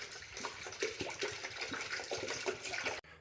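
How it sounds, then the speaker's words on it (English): Distilled water pours into the radiator of a third-generation Toyota 4Runner in a steady, faint splashing trickle that stops abruptly near the end. "I'm just putting distilled water in here"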